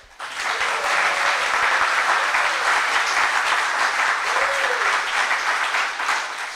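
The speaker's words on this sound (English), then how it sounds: "Let's hear a show of applause" Audience applause at a real estate investor summit, a steady crowd clapping that swells quickly and holds loud and dense for several seconds before easing slightly.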